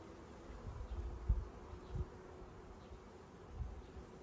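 Faint, steady buzzing of honeybees with a low hum throughout, soft and somewhat distant, no voices.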